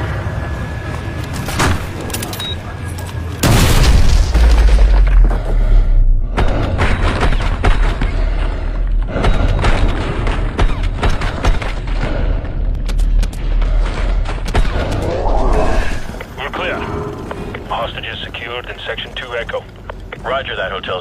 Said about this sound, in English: Team 1 moving to breach.